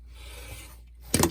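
A sudden rasping cut through paper for a junk journal planner made from an altered book, a brief loud burst near the end after quiet handling sounds.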